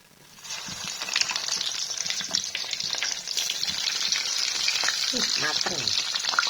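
A single piece of food fries in a hot pan, giving a steady, close crackling sizzle that builds in the first second and then holds dense and even, with occasional stirring scrapes and pops.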